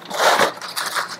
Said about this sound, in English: Swizzle it all in. Churn it.